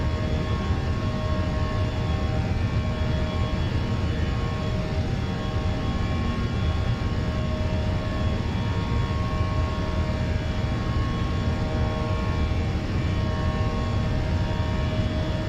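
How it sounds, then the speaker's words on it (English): Steady, loud, unbroken roar of a LATAM Airbus A320's engines accelerating down the runway for takeoff in Microsoft Flight Simulator, a dense broadband rumble holding constant throughout with no voices. "We need to let our aircraft gain a little bit more speed."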